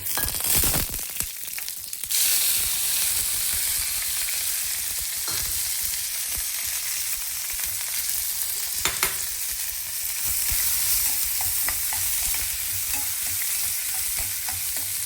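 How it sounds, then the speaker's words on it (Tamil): Curry leaves, chillies and chopped onion fry in hot oil with mustard seeds and cumin, a constant close sizzle with a few sharp clatters of utensil against pan early on. "அப்புறம் நம்ம கட் பண்ணி வச்சுருக்க கருவேப்பிலை மிளகா வெங்காயம்"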